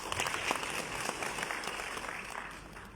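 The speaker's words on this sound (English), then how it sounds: "a warm round of applause for Mr." Applause at an Easter prayer festival at the Mariammen Temple, a soft, even wash of many hands clapping at a distance, steady and fairly quiet for the whole stretch.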